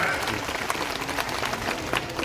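At a political rally, a crowd bursts into applause, a short wash of clapping heard from a distance with no voices over it.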